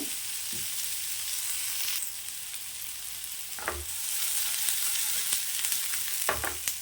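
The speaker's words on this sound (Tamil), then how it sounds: "வெங்காயம் நல்லா வதங்கிடுச்சு." Onions sizzle and fry in oil in a pan for a Tamil dry fish curry, a steady close crackle broken by a few scraping stirs of a spoon, with no talking.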